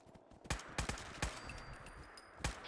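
Video game gunfire aimed at super mutants in Fallout 4 survival mode: about six sharp, spaced shots with bursts in between, crisp and close over a quiet ambient bed.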